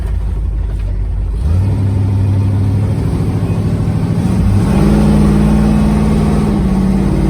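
A 1964 Ford Galaxie 500XL with a built 428 V8 rumbles loudly, then its engine note rises as it pulls away from a stop, climbing through a gear change and revving hard again, close and without talk.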